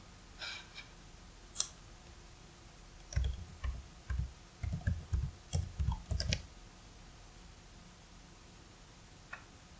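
Computer mouse buttons click while a WordPress plugin is installed, with quiet isolated clicks early on and a faster cluster of soft taps in the middle, all close and faint over a low background hiss.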